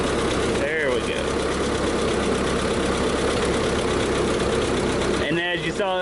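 A 1952 Ford 8N tractor engine idles steadily, a constant low mechanical rumble running throughout, with brief bursts of talk near the start and end.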